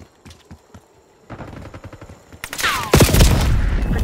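Gunfire in the Call of Duty Black Ops 6 video game, starting with scattered separate shots and building into heavy sustained automatic fire with a loud blast near the end, close and loud.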